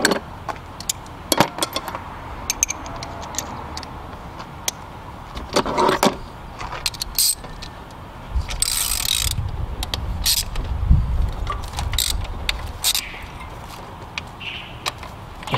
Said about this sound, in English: So you would just pull off all three of the coil packs. It's a 10 millimeter bolt to pull them off.